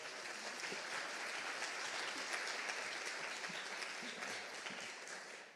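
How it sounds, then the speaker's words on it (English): Sustained applause from a large crowd at a school board swearing-in ceremony, steady and fairly distant, with dense overlapping claps filling the whole stretch without pause. "Let's give them a round of applause."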